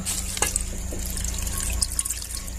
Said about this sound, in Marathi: आता आपण हे एक ग्लास पाणी ओतले याच्यामध्ये